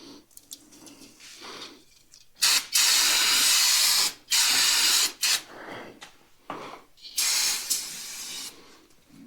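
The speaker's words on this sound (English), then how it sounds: "Just a little bit of brake clean and then throw brake clean on all the way up to the top" Brake cleaner sprayed on the threads of a Polaris RZR coil-over shock, several loud, close hissing bursts of aerosol, the longest lasting over a second, separated by short pauses.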